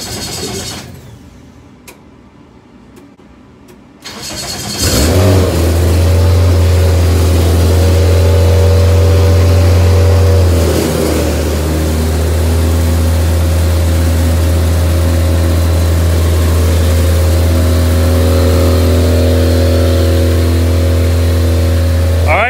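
Engine on the Cricket build firing up for its first start after the cowling was finished: silence, then it catches abruptly and settles into a loud, steady, smooth running drone close by, with no talking.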